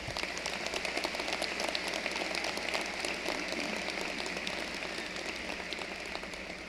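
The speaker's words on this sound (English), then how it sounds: "you deserve a round of applause." Crowd applause at a university graduation commencement ceremony, a dense, sustained wash of many hands clapping in a large hall, steady and gradually fading slightly, with no speech over it.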